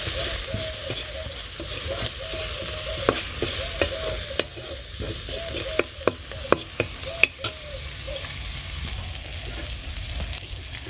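Sliced onions fry with salt, turmeric and chili in a village kitchen pan. A steady sizzle runs underneath, broken by repeated scraping and clicking as a spoon stirs them.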